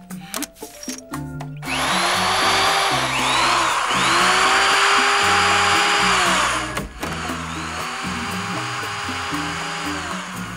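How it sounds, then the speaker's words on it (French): A power drill whirs loudly and steadily as a repair is made to a small leak, with rising and falling motor pitch over a backdrop of cartoon-style music and clattering. "Perceuse."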